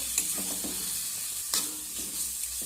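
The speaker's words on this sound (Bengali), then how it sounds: "এবার সবজিগুলোকে আমি আবারও নেড়ে চেড়ে নেব" Mixed vegetables for a stuffed paratha filling stirred in a pan after steaming under a lid, giving a few soft scraping strokes over a low, steady sizzle, close and fairly quiet with no one talking.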